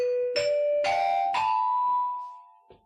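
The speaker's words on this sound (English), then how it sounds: "you know what that chime means" A bright chime rings out in three or four rising bell-like strikes that sustain and overlap, then slowly decay to silence, followed by a faint click.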